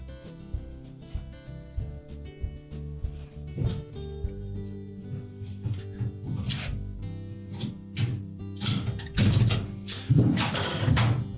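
A Whirlpool dishwasher rack slides along its rail, giving close mechanical rattles, clicks and scrapes that grow louder and busier toward the end.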